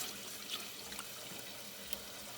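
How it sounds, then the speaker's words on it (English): Cold water pours steadily into a pot meant for boiling pork, a faint, even hiss of running liquid with a couple of small splashes, no voices. "Put some cold water, we boil it a bit."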